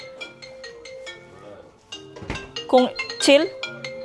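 A cellphone ringtone sounds for an incoming call at home, a melodic electronic tune that swells louder toward the end. Someone talks over it throughout.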